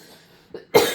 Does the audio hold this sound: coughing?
yes